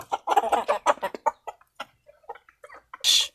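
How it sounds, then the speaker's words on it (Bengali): Native free-range chickens cluck softly in quick, scattered bursts close by while eating feed, with a sharper squawk at the end. "এগুলো হচ্ছে আমার দেশি মুরগি দেখেন আমি দিয়ে দিচ্ছি"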